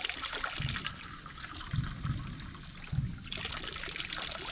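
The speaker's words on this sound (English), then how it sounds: "you can just pour it in your hand" Water being poured into cupped hands at a Japanese shrine purification basin, a soft intermittent trickle and splash in a few short bursts over quiet outdoor ambience.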